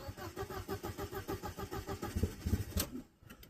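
A car engine cranks in a fast, even rhythm of starter pulses, then catches and runs briefly before cutting out, close and moderately loud with no talk.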